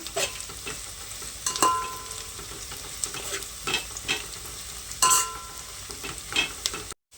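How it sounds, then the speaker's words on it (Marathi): Whole garam masala stirred into hot oil in a pot for chicken biryani, a steady close sizzle broken by several sharp scrapes and clinks of the spoon against the metal, with no talking. "आता आहे ना आपण ह्याच्यामध्ये अख्खा गरम मसाला टाकूया आणि यांना मिक्स करून घेऊया."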